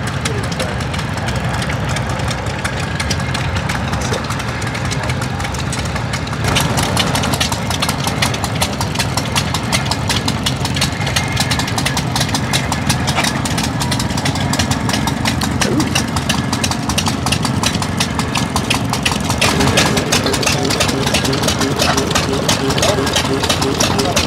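Antique tractor engines idle at the Steam-O-Rama tractor show in Halltown, Missouri, a steady, dense mechanical rumble that runs the whole time with faint background voices.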